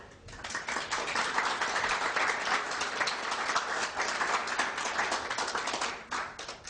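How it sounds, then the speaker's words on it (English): A large audience at a talk on Fatima breaks into sustained applause, a dense, even roar of many hands clapping at once that holds steady before tapering slightly at the end. "give him a round of applause"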